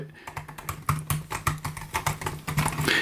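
Rapid clicky typing on a 2017 13-inch MacBook Pro's second-generation butterfly keyboard, low-travel with no silicone membrane, quick sharp keystrokes in an uneven rhythm, close and fairly loud, with a faint steady hum underneath.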